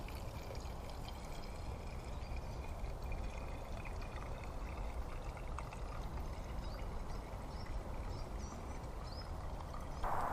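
Gin poured through a funnel into a bottle of sloes, a steady, quiet, continuous liquid flow lasting about ten seconds, close up with no talking.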